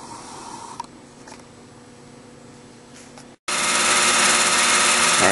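Tormach PCNC 1100 lathe with Duality attachment turning a cut, a moderate machine whir with a faint tone that stops briefly, then gives way to a loud, broad rushing hiss.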